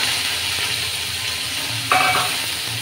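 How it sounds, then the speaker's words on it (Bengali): Nigella seeds, two green chillies and onion sizzle and fry steadily in hot oil in a home kitchen, a continuous close crackle with a brief louder burst near the end. "এটা কালো জিরে দিয়ে দিলাম, সঙ্গে 2 কাঁচা লঙ্কা দিলাম, পেঁয়াজ দিয়ে দিলাম"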